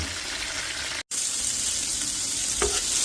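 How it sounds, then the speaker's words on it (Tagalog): Chicken breast pieces coated in egg and cornstarch frying in hot oil until golden brown, a loud, steady, close sizzle with a brief cut near the start and a faint clink later. "Mag-fry na tayo until golden brown"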